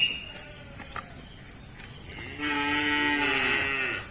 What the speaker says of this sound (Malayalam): ആദ്യം നമ്മളെ പശുക്കളാണ് കേട്ടോ പശു കുട്ടികളും